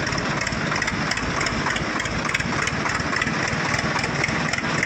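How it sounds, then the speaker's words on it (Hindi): A Swaraj 735 tractor engine runs steadily up close, a continuous loud diesel chug with a dense, even rumble and no voices over it. "ट्रैक्टर लेके चल रहे हैं भैया।"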